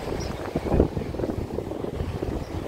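Wind gusts buffet a microphone at a small hidden beach, making a continuous low, rumbling roar that swells and dips throughout, close and fairly loud.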